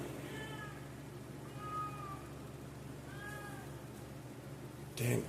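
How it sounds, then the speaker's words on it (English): A cat meows three times, evenly spaced drawn-out calls at moderate distance in a quiet room, followed by a brief bump. "damn cat."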